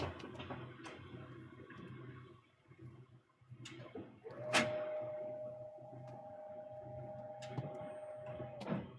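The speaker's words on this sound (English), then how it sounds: "a microphone so you can hear the printer from the YouTube live stream" A direct-to-garment T-shirt printer hums quietly with scattered clicks and ticks, then a sharp clack and a steady whining tone as the print head moves, all fairly faint.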